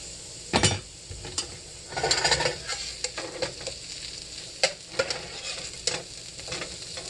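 Onions sautéing in a pan to golden brown over a low sizzle, broken by frequent loud scraping and clinking of a utensil being stirred against the metal.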